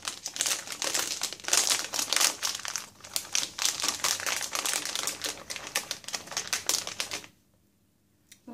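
A crinkly plastic snack packet of chocolate speculoos balls is torn and crumpled open, with dense rapid crackling bursts that run for several seconds before stopping abruptly.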